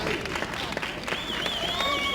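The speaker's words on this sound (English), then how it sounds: "A little applause from the fans up here." Scattered applause from soccer fans in the stands at a youth soccer match after a penalty is awarded, soft and fairly distant, mixed with crowd murmur and a whistle-like tone.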